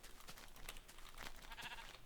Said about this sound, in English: We might as well punch some sheep while we're at it to get a bed.